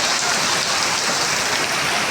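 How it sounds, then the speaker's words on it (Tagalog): Heavy rain pours down steadily, a dense, loud hiss of drops drumming on surfaces that fills the whole moment with no voices. "Ang lakas ng ulan guys, no?"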